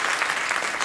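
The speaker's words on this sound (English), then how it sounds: "Just go ahead and clap." Brief burst of audience clapping, a steady dense patter filling the whole short moment at moderate loudness with no voices over it.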